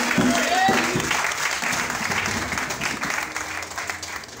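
A church congregation breaks into sustained applause, a dense wash of many hands clapping at fairly high volume that gradually eases, with voices and shouts mixed in at the start.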